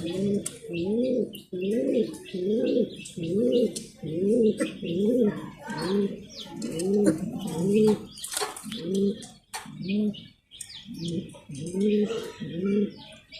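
Mundian pigeons coo in a steady, repeated rhythm close by, with faint chirps and rustling scattered in the background.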